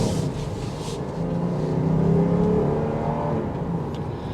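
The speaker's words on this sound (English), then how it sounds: "You get that exhaust note." A 2023 Jeep Grand Cherokee L Summit accelerates from inside the cabin, its engine and exhaust note swelling steadily to a peak and then easing slightly, a continuous low rumble with no talking.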